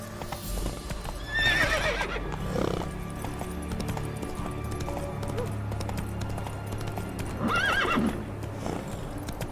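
In The Witcher 3 video game, a horse's hooves clip-clop at a steady gallop and the horse neighs twice, all fairly close, with no talking over it.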